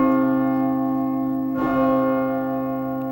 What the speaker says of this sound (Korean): 종이 울리기 시작했다.